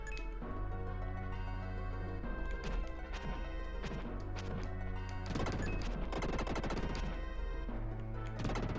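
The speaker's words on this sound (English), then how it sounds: "I like that noise it makes when they explode. It's a very fun explosion." In the Illusion of Gaia video game, defeated enemies explode in a string of sharp, crashing bursts. The pops keep coming over loud, steady background game music.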